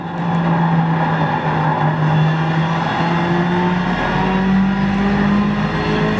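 Race car engine in a racing video game played on a Ferrari 488 steering wheel, a loud continuous drone whose pitch climbs steadily through the gears, with no talking.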